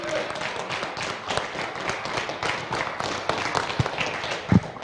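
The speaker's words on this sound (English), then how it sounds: "Massive round of applause, please." An audience at a USSC round in Indianapolis applauds a new season champion, giving moderate, continuous clapping with a few louder thumps near the end.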